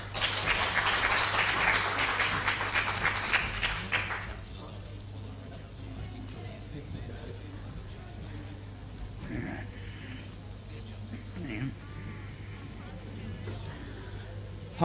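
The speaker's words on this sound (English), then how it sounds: "Round of applause, please" A short burst of audience clapping at a high school presentation fades out after a few seconds, leaving a quiet room with low hum and faint rustling.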